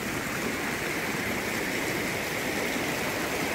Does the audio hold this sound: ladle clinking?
no